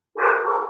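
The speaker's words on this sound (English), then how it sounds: "he's literally in the back of the house barking at the Marilyn Monroe picture right now" A dog gives a single close, loud bark or yelp that starts after a brief silence and rings on for about half a second.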